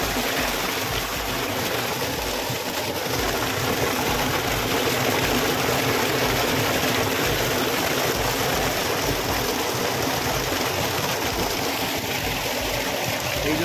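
Irrigation water flowing through a village channel beside farm fields, a steady broadband rushing gush, close and continuous with no pauses.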